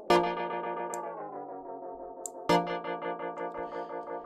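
Distorted tone passed through AudioThing's Outer Space vintage tape echo plugin, sustained with repeating delayed echoes that pulse and decay, restarting with a fresh hit midway and fluttering rhythmically, with no voices.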